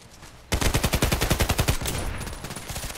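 An SA-58 rifle fires in the shooter game Contract Wars: after a quiet start, a rapid, evenly spaced burst of about twenty loud, close shots, then fainter trailing reports.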